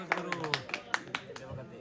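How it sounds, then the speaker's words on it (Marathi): Spectators at a Veer Maratha Premier League cricket player auction in Khopoli give a brief round of applause for a completed squad, sparse separate claps in an uneven rhythm over a faint background voice. "त्याच्यासाठी एकदा जोरदार टाळ्या"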